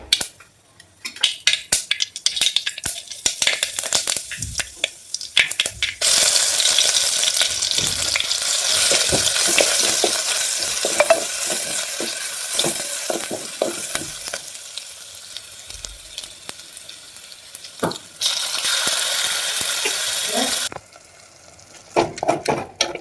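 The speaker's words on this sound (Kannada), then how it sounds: "ನೀವು ಪ್ರತಿ ಸಲ ಸಾಂಬಾರ್ಗೆ ಹೆಂಗೆ ಒಗ್ಗರಣೆ ಹಾಕ್ತಿರಲ್ಲ ಹಂಗೆ ಮಾಡ್ಕೋದ್ರಿ" Oil hisses and crackles in a pan as spices are tempered for sambar. A few sharp stirring clicks open it, then a dense, loud sizzle runs steadily for about fifteen seconds before cutting off.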